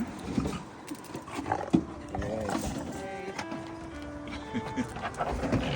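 A pit bull lab mix dog snuffles and sniffs close by, with some panting and a few thin whining tones, while people talk in the background.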